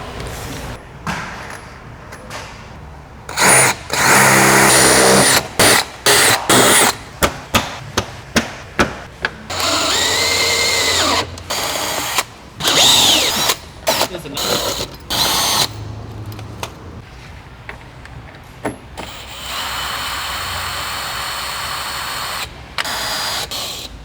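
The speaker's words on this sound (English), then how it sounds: "drill out those holes to an 11mm hole" A power drill bores holes in the front skirt of a 2021 Hyundai i30N hatch during a splitter kit install, with repeated short bursts and longer runs of whirring, ratcheting clicks between them, close and loud.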